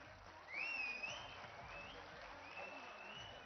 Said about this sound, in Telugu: తెలంగాణ రాష్ట్ర వ్యాప్తంగా లక్షలాది చప్పట్లు మోగుతూ ఉన్నాయి